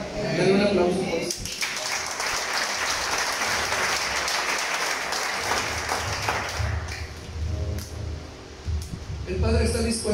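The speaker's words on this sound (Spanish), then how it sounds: "Dale un aplauso, pues." Congregational applause at a Shabbat service, a dense, sustained wash of clapping lasting several seconds, with speech heard at the beginning and end.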